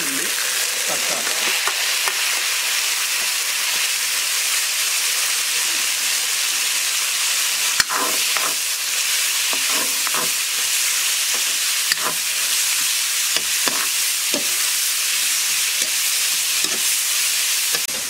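Small onions, garlic and tomatoes sauté in a pan for a Kerala curry, giving a loud, steady, close sizzle with occasional stirring scrapes throughout.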